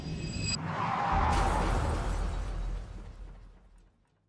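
A loud crash of metal and breaking debris bursts out as NASCAR race cars pile into a wreck, followed by heavy rumbling impact noise that slowly fades away.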